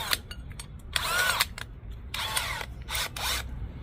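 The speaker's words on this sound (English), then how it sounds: "we're going to drill a hole in each of these" Several bursts of a power drill with a half-inch bit whirring and boring into wood, each lasting about half a second, close and fairly loud with short gaps between.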